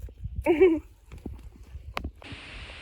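A horse with horseshoes clip-clops in a few soft, irregular hoof knocks at close range, with a brief vocal sound near the start and a hiss of noise at the end.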